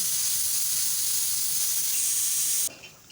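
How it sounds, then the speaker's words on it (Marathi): A pressure cooker on the stove, cooking for rajma chawal, lets out a loud, steady steam whistle that runs unbroken for several seconds, then stops abruptly, leaving only faint kitchen noise. "इथे कुकरच्या शेट्ट्या होत आहेत"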